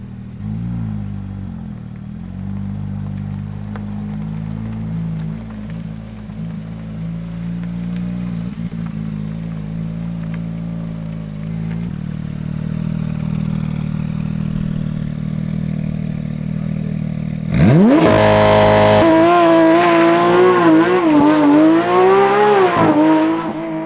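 A car with a newly fitted aftermarket exhaust idles with a deep, steady burble up close, then at the end breaks into loud, sharp revs that rise and fall several times.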